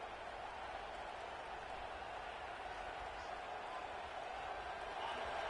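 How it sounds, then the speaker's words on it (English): A steady, dense roar of a large stadium crowd in a football video game, continuous and even throughout, like a distant stadium murmur with no distinct voices standing out. "This crowd bringing the energy and noise early."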